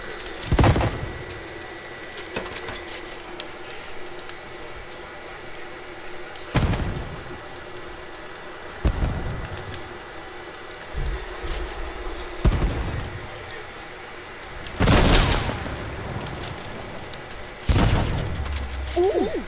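Fortnite gunfire booms out in several sharp, spaced blasts over a low game background, some near and loud, others more distant.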